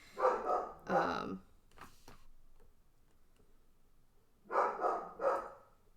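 A high-energy breed of dog barks in two short bursts of two sharp barks each, separated by a few seconds of quiet, near and moderately loud.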